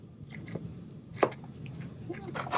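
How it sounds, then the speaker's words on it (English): Scissors snip excess lining fabric while a bag is being sewn, a few short crisp cuts spaced irregularly against a quiet room. "Trimming my little bit of excess lining fabric and repressing."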